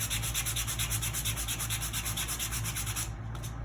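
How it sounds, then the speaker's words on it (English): Close hand sanding along the edges of a small wooden craft piece, an even rhythmic scraping of sandpaper on wood that stops abruptly near the end. "You can sand the side nice and smooth."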